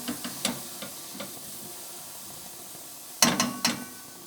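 Salted melanzane fry in a pan under a soft sizzle while a utensil scrapes and stirs in short, sharp clicks at the start and again in a louder cluster near the end.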